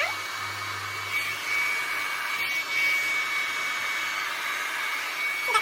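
A hair dryer blows steadily while drying curly hair, a continuous close whooshing hum with slight shifts in tone as the airflow moves around.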